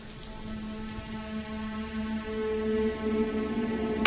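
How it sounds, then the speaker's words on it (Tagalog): Steady rain falls through a power outage at night, a soft continuous patter with a faint tonal hum underneath, growing slightly louder toward the end, with no voices. "Hindi pa ba hihinto tong ulan na to?"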